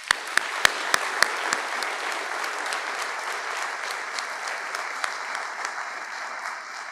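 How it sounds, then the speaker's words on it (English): Audience applause at a Winston-Salem police academy BLET graduation ceremony: a few sharp, close individual claps open a steady, dense roar of clapping that holds for the whole stretch. "Let's give a huge round of applause to our phenomenal training staff."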